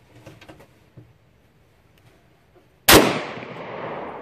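A single loud .410 shotgun blast fires after a few soft handling clicks, followed by a long decaying echo outdoors.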